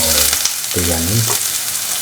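Onions hit hot oil in a pan for a bitter gourd tamarind stew, giving a loud continuous sizzle, with a brief voice heard midway.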